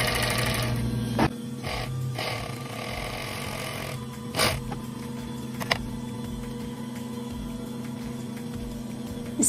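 Industrial overlock sewing machine, freshly cleaned, running steadily through a piece of denim, a continuous mechanical hum with a few sharp clicks and knocks over it, close by and without talk.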